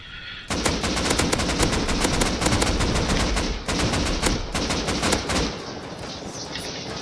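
Rapid automatic bursts from an LR-300 assault rifle in the survival game Rust, loud and close, firing in sustained strings with brief pauses between them.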